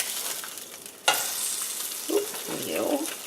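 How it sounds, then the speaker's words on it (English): A broken-yolk egg fries in a pan and is flipped once, with a sharp scrape and a sudden burst of sizzling partway through, followed by steady crackle and a few soft knocks. "I broke the yolk, and I'm now going to flip the egg, because I like it to be flipped once."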